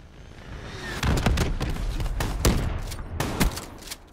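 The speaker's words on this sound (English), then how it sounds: "Hostile Hellstorm inbound." Hellstorm missile strike explosions in Call of Duty: Black Ops III: a burst of sharp, repeated blasts and cracks in quick succession over a constant battle roar.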